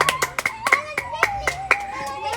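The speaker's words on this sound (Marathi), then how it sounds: "टाळ्या वाजवा." Several sharp, separate hand claps in an uneven rhythm, close and clear, with children's voices and other people talking alongside during a playful word game.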